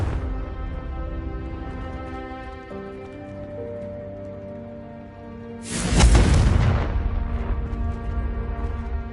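A Confringo blast spell in Hogwarts Legacy erupts as one loud booming explosion with a rushing burst that decays over a few seconds, over a sustained orchestral music bed.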